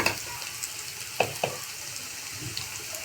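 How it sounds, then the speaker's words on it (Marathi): Onion frying in a pan as coriander powder and masala go in, a steady soft sizzle with a couple of sharp clinks of a spoon on the pan, close and without talk. "बघू शकता तुम्ही कांदा आता परतलाय, थोडासा गुलाबी झालाय"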